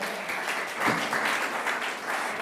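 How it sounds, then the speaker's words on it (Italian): An audience at an event on new craftsmanship in Venice gives brief applause, a soft continuous patter of many hands at moderate distance lasting a couple of seconds. "Applauso."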